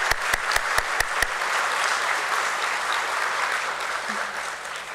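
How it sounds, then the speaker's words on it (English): Sustained applause from an audience at a stock exchange listing ceremony, a dense even wash of clapping running throughout after a few sharp knocks at the start, fairly loud and fading slightly at the end. "Let's have a huge round of applause for these 3 gentlemen."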